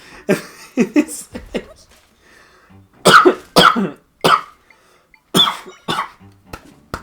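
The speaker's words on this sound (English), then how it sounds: "Cough. Anyways. Cough." Someone coughs several times in short bursts, with pauses between clusters, close to the microphone.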